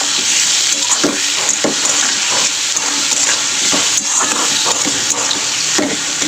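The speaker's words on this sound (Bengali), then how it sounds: "তো টমেটো ওর মধ্যে দিয়ে দেবো, দিয়ে তেলে একসঙ্গে ফ্রাই করে নুনটাও দিয়ে দেবো" Tomato and onion frying together in hot oil for an okra curry, a loud, continuous sizzle with intermittent scraping and stirring clicks from a utensil against the pan.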